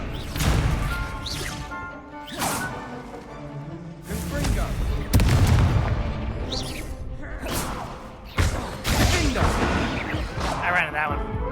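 Fire spell explosions from Confringo cast in Hogwarts Legacy, heard as a run of loud, sharp crashing blasts every couple of seconds over game noise, with a voice speaking now and then.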